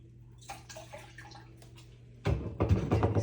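Water for pickling brine is poured into a measuring cup: faint trickles and splashes at first, then a louder, steady pour near the end, close by with no talk.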